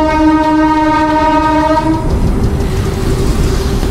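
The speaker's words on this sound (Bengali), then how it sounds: "পাশ দিয়ে ট্রেন যাচ্ছে আর আমি ফুটপাথ দিয়ে যাচ্ছি।" A train passes close beside a footpath in Kolkata, sounding a loud, sustained horn blast for about two seconds before the horn cuts off and the steady rumble of rolling cars continues.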